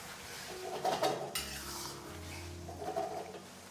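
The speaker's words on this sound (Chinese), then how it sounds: "每加入一次用锅铲推动一下，这样不仅防止粘锅，同时还可以防止水淀粉结坨。" A metal wok spatula pushes tofu and minced pork through a cornstarch slurry in a wok, giving faint scraping and clinking strokes over a soft sizzle.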